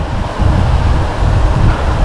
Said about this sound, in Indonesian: Angin kuat geng.